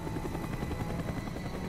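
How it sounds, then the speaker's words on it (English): A helicopter circles overhead in Call of Duty: Black Ops, a loud, steady rotor thump and engine roar filling the scene without a break. "The chopper is coming around again."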